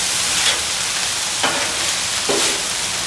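Cashews get tossed into a hot pan of chicken and vegetables, a dense steady sizzle broken by a few soft scraping stirs.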